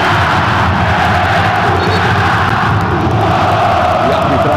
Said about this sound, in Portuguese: E a torcida do Cruzeiro agora faz uma festa incrível